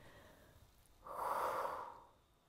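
A single breathy exhale during a Pilates exercise on a Swiss ball, close and soft, lasting just under a second, with a quiet room before and after.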